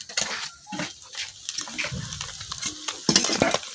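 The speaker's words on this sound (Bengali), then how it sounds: "মাছটির কিন্তু আমি উল্টায় পাল্টায় ভাজি করে নিছি।" Khoilla fish frying in a pan in a village kitchen as the pieces are turned over, giving an uneven crackle and sizzle with some brief clatter, close by and moderately loud, with no talking.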